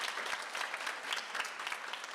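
Audience applause at a charity sing-a-thon event, a steady dense wash of many hands clapping together, sustained and fairly loud throughout with no voices on top.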